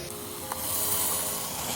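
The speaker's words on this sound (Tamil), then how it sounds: "நல்லா வதங்கின பின்ன அரைச்ச கீரையை போட்டு வதக்கிங்கோ." Ground spinach sautés in a pan with coriander powder, cumin powder and garam masala, giving a continuous close, bright sizzling hiss with a small pop partway through.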